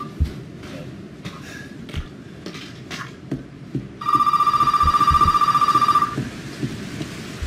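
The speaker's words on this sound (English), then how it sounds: "phone ringing" Old-style telephone bell in Resident Evil 7 rings in one loud continuous burst of about two seconds, over steady rain with faint rumbles of thunder and scattered thuds.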